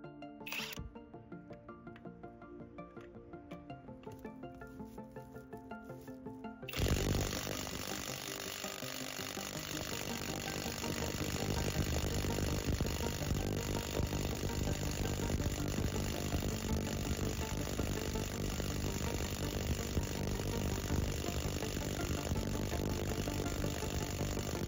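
An experimental one-of-a-kind modified impact wrench starts up on a bolt after a quiet stretch. It then hammers loudly and continuously with a dense rattling buzz that holds steady for many seconds.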